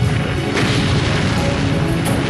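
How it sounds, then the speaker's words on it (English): British battleships fire their big naval guns in a continuous, dense roar of heavy booms and crashes, loud and close, with a couple of sharper blasts standing out, and no voices heard. "The British battleships open fire."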